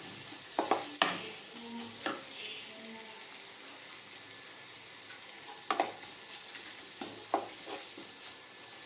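Tadka spices for veg tadka dal sizzle steadily in a hot pan, with intermittent scraping and stirring strokes of a spatula throughout.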